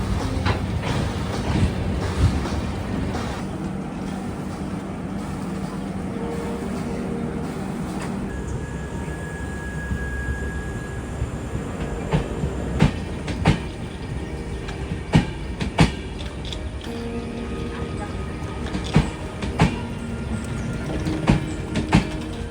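A train at Kabakaputtur railway station rumbles and clatters steadily, with sharp metallic clicks and knocks growing frequent later and a brief squeal partway through.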